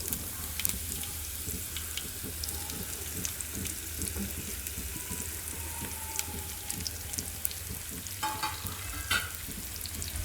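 Raw mango pieces sizzle and crackle steadily in hot tempering oil in a kadai, with occasional stirring scrapes against the pan; close and continuous, no one speaking.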